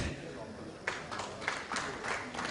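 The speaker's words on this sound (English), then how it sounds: "Please welcome him with a round of applause" Applause breaks out for a guest welcomed onstage at a security technology conference, a moderate wash of clapping with a few louder surges, fairly distant in a large hall.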